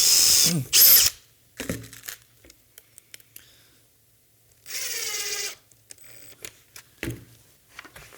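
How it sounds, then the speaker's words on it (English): A power drill drills off center into a car bumper bracket and then drives in a screw, giving two short, loud whirring bursts separated by scattered clicks and knocks of the tool being handled, heard up close. "if you drill off center in the direction you want it to move, when you tighten the screw in, it'll actually pull it a little bit back for you"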